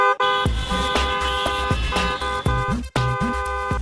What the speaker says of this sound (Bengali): এই যে আপনি এতক্ষণ হর্ন দিলেন